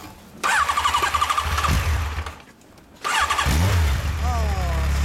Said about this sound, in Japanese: ペケ JR エンジン音聞かせてください